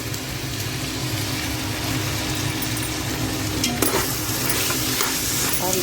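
Chopped beans and mixed vegetables for a vegetable biryani sizzle loudly in a pan while being stirred, a continuous close frying hiss with scraping stir sounds throughout.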